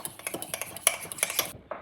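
Spoon stirring cake batter in a bowl, a quick run of light clinks and scrapes in steady rhythm, close and fairly soft, briefly pausing near the end.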